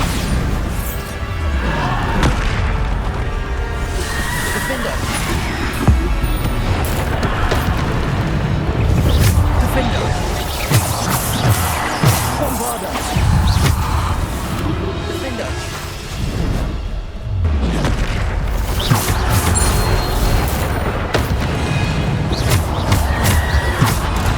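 Repeated Bombarda spell blasts in Hogwarts Legacy, booming and whooshing impacts amid busy spell combat, loud and dense over about twenty seconds with a voice speaking now and then.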